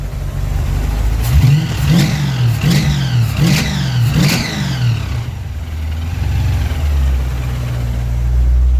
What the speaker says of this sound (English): When I give it a rev, it'll be way too loud for the microphone